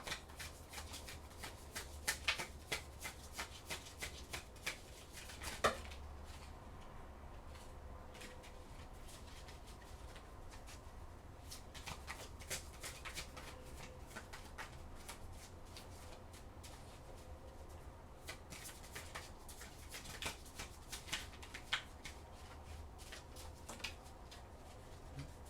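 Oracle cards shuffled by hand, a faint, quiet rustle with soft flicks and taps over several seconds, no talk.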